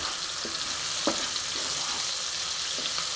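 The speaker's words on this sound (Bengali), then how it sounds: "আমি এবার কাঁচা পাকা টমেটো আমি খুব সুন্দর করে কুচিয়ে রেখেছি সবটা দিয়ে দেবো" Chopped half-ripe tomatoes fry in a pan with spices, a steady loud sizzle with a few soft stirring scrapes, no voices.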